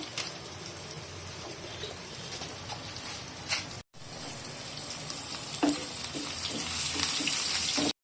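Dried chillies and whole panch phoron spit and crackle in hot oil as a tempering for lentils, a steady close sizzle with scattered pops and a brief break midway.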